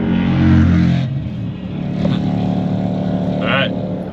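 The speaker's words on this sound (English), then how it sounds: "the motorcycle just passed me" A motorcycle passes by on the road, its engine swelling loudly and then fading, heard over a steady boat or vehicle drone with some talk.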